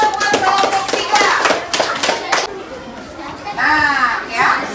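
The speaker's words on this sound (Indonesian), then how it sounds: "beri tepuk tangan buat kelompok 3" Students in a classroom clap for a group's presentation, a brief burst of many hands applauding together amid children's voices and chatter, fading as someone speaks.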